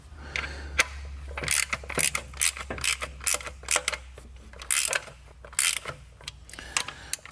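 Ratchet mechanism of a Vyper creeper chair clicking as it is raised from flat to an angle, a series of close, sharp, irregular clicks and clacks with no speech.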